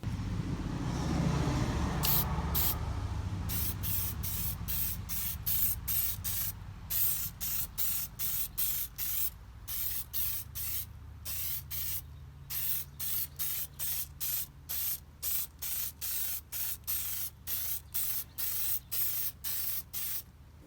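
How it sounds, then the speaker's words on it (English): Black Duratrax spray paint hisses from a rattle can onto an RC car body in many short, rhythmic bursts, after a longer opening spray, close up and with no voices. "I'm going to use next is black spray paint from Duratrax and spray those black outlines"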